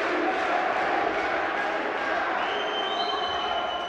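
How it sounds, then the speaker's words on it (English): Spectators at a European under-23 judo championship in Samokov, Bulgaria, cheer and shout together for a fighter, a continuous mid-level crowd roar with some whistling late on. "the crowd are getting behind this young man"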